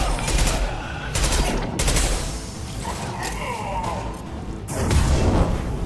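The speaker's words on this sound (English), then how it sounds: "Requesting suppressive fire." Suppressive gunfire in a Mass Effect 2 firefight: loud bursts of close automatic weapon fire, several separate volleys with short gaps, mixed with mechanical clanks and impact noises.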